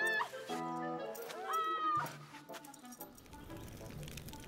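A cartoon dog in the Felix the Reaper video game gives a few high, tonal yips and whimpering barks, followed by softer shuffling noises.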